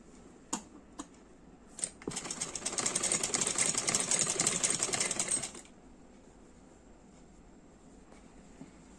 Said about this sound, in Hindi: अब इसी तरह से हम सारे गले में इसी तरह से सिलाई कर देंगे